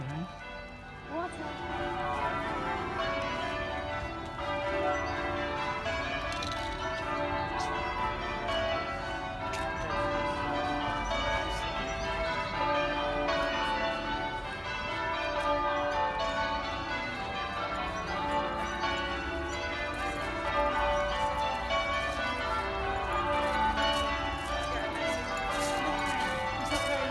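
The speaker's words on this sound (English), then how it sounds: "It's hard to explain how loud those bells actually are standing here." Church bells peal loudly and continuously at a medieval festival in Tewkesbury, with many overlapping strikes in a dense wash of ringing and faint crowd sounds beneath.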